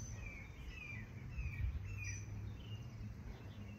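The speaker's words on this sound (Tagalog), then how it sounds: "Lakas po ng mga huli ng mga ibon." Birds chirp and call repeatedly outdoors in a windy spot in Texas, bright short tweets scattered over a steady low rumble of wind.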